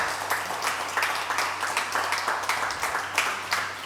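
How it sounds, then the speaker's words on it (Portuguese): A church congregation gives a round of applause, moderately loud with distinct, slightly rhythmic clap bursts over a faint steady low hum. "Vocês podem mais uma vez dar uma salva de palmas por essas pessoas?"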